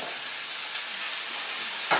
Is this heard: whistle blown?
no